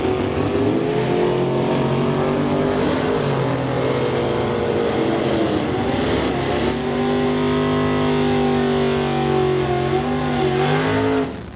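A Pontiac and a Ford Mustang Fox body drag race at an NHRA Summit ET Series event, with loud, continuous engine roar and rising, shifting harmonic revs as the cars accelerate down the strip.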